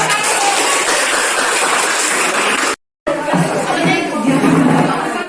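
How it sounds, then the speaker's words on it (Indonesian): A classroom audience claps and chatters for a presenting student group, a dense, loud wash of hand claps and voices with a brief cut of silence in the middle. "Beri aplaus untuk kelompok"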